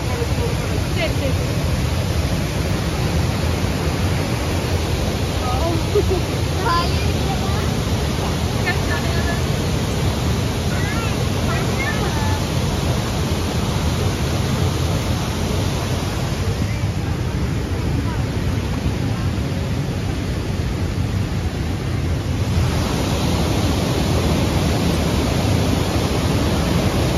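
Running water rushes steadily at the Hogenakkal bathing waterfall, a dense, even roar that fills the whole stretch at close range, with faint voices in the background.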